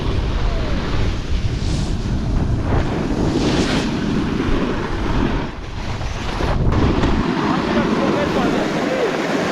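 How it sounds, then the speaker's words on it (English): Strong wind batters the microphone on a windy day outdoors, producing loud, continuous rumbling buffeting that surges and dips, with a voice briefly audible amid the roar. "Windy day."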